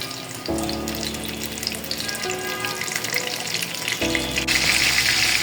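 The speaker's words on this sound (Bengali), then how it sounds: "আমরা এটা লো মিডিয়াম আঁচে খুব আস্তে আস্তে ভেজে নিব" Chicken-stuffed capsicums fry slowly in oil over low-medium heat, giving a steady, close sizzle with a brief lull midway before it swells louder again. No one speaks.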